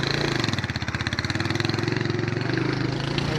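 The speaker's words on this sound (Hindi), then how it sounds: "मोटरसाइकिल पे चढ़ गए हैं" A motorcycle engine runs close by with a loud, steady, rapid chugging pulse that holds an even idle-like rhythm throughout, with no voices over it.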